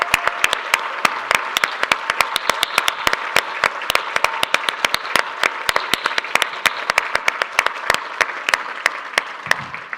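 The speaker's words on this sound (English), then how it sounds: "Jason, we want to cheer you on." Gala audience applauding a guest asked to stand, a steady wash of clapping with sharp individual claps popping out close by, sustained for the whole stretch.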